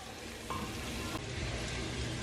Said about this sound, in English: it's kind of weird to be cooking like I don't know, already cooked onions in this oil